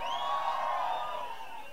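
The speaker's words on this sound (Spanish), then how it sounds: "El grito para el reconocimiento al High Energy." A crowd at a High Energy music festival concert lets out a sustained, distant-sounding shout and whoop that rises and slowly fades, a broad wash of many voices cheering together.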